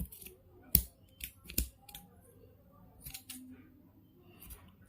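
Scissors snipping embroidery threads during hand embroidery hoop making, a few close, crisp cuts spaced irregularly over a quiet background.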